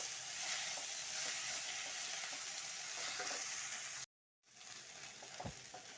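Drumstick leaves and horse gram frying in a hot pan give a steady, close sizzle with stirring scrapes, broken by a brief silent gap before the crackle resumes.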